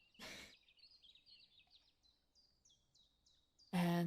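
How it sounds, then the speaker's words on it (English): Bird calls from the Wingspan digital board game, winter theme: a series of short, high chirping tweets rising and falling in a quiet run, between two brief louder bursts of sound at the start and end. "you're going to be hearing bird noises, for one"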